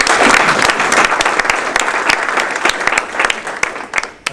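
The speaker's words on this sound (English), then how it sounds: "please give a round of applause for all of our event sponsors and donors" An audience at a university induction ceremony breaks into sustained applause, a dense wash of many hands clapping that swells briefly and then starts to fade.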